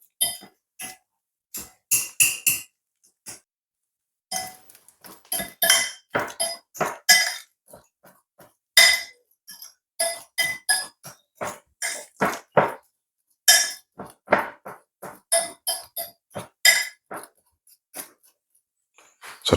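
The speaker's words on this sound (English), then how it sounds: "We're going to use a fork and try to soften this up as much as possible." A fork mashing plantain in a bowl, giving a long run of close, irregular clinks and soft squelching strokes separated by short pauses, with no talking.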